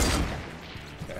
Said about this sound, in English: They got grenade launchers, man.